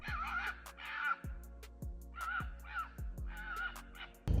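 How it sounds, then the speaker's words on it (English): Muntjac deer calling from a forest at night, a series of harsh, raspy barking cries repeated in pulses at moderate distance, with faint low thumps underneath and no talking. "Just had some monk jack going nuts in the forest across from me."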